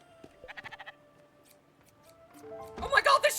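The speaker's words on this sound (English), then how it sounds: "Shear the wool right off its back." Sheep being sheared in the Spiritfarer video game: a quick series of snipping clicks, then a loud cartoonish bleat near the end, with a voice talking over it.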